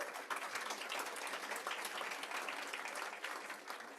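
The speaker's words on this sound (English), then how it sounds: "Another round of applause for Jenny, please." Audience applause at the official Invest: Greater Fort Lauderdale 2022 launch conference, a steady, dense burst of clapping from a seated crowd that holds at even loudness throughout, with no speech over it.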